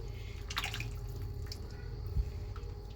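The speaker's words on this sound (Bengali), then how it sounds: "এখন আমি গরম ফুটন্ত পানি দিয়ে দিচ্ছি ঝোলের জন্য" Hot boiling water is poured into a pot of spicy beef curry, giving a steady splashing, dripping trickle close by with a brief burst near the start and a low hum underneath.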